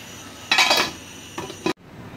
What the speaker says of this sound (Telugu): ఇది మూత పెట్టేద్దాం కొంతసేపు